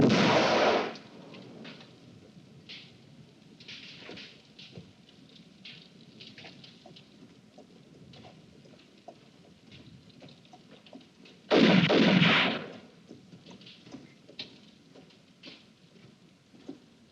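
A firing squad's rifle volley cracks out in a western film, one loud sharp burst at the very start, then a quiet stretch and a second heavy report roughly eleven seconds later, with faint scattered background noise between.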